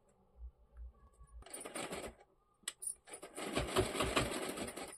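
A sewing machine runs in two short bursts of rapid stitching along a folded saree hem, close and clear, with a brief metallic clink between the runs.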